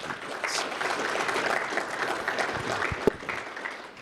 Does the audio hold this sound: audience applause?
yes